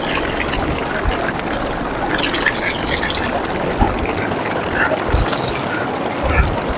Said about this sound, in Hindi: ये रहा जी पानी का शोर